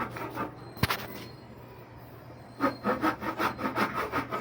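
A hand saw (an ice saw) rasps through wood in steady back-and-forth strokes after a brief knock, close and rhythmic.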